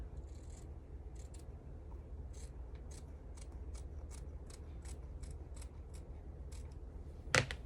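Scissors trim quilting fabric for a calico snails table runner, a run of about a dozen short, crisp snips at a steady rhythm, close and fairly quiet, ending in one sharper clack.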